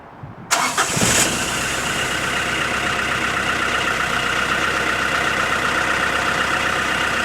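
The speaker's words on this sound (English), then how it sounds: "I'll do a genuine cold start first." An engine cold start: a short whirring crank, then it catches with a loud burst and settles into a steady, rough idle, recorded near the exhaust, with no talking.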